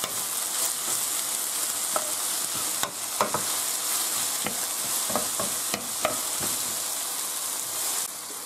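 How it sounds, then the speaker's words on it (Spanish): Spinach and small apple pieces sauté in a hot pan with a continuous sizzle, while a utensil gives occasional sharp scraping stirs across it. "echamos la manzana en trocitos. Y lo rehogamos otra vez."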